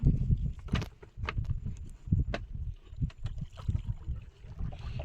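A small fishing boat moves through the waterways of the Sundarbans forest: soft, uneven low rumbling and knocking, with gusty wind-like buffeting, fairly faint and without talk.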